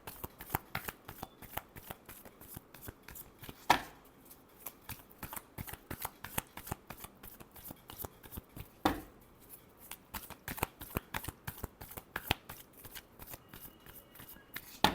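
Tarot cards being shuffled by hand, a rapid continuous riffle of crisp papery flicks running steadily for about fifteen seconds, with a couple of louder snaps along the way; close, quiet, no talking.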